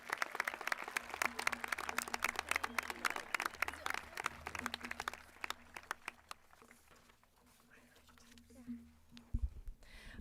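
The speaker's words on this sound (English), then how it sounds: "Please join me in applauding our Warrior team for a job well done." Audience applause at a Snow Canyon High School graduation ceremony, dense clapping that fills the first six seconds and then fades into a quieter murmur with a few scattered claps.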